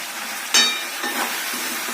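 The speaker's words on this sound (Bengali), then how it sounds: "এবার আমি গরম জলটা দিয়ে দিচ্ছি।" Hot water poured onto sizzling braised chicken and potatoes in a home kitchen bursts into a sudden loud hiss that settles into a steady, close boil and sizzle, with no voices.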